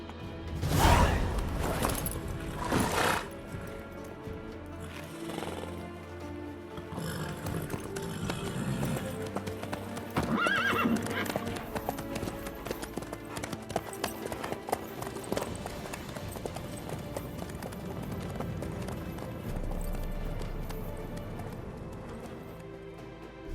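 Horse hooves clop along in The Witcher 3: Wild Hunt, a steady galloping rhythm under in-game music and ambience, with a loud burst at the start and occasional whooshes.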